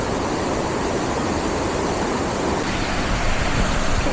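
A waterfall in Da Lat gives a steady, loud, broad rushing roar that holds unchanged throughout, with no voices over it.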